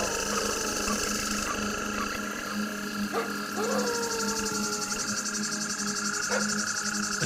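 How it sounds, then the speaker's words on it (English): Cicadas sing in a steady, shimmering drone that fills the whole stretch, with a faint pulsing texture and a few brief chirps rising over the continuous buzz. "Consider the Song of the Cicada"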